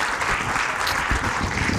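A room of dinner guests gives brief, loud applause, a dense steady patter of clapping from start to finish.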